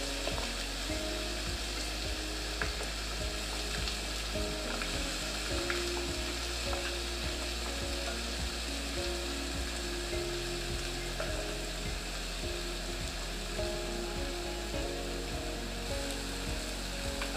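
Onion, ginger and garlic sizzle in hot oil for a chicken curry, a dense steady frying hiss with occasional stirring scrapes and clicks, close and continuous throughout.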